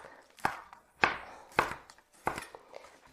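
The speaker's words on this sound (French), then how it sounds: "Je vais couper les saucisses en petites tranches." A knife chops sausages into small slices on a board for a homemade yakisoba-style noodle dish, with about five crisp, separate cuts spaced roughly half a second apart, close and fairly quiet, with no talking.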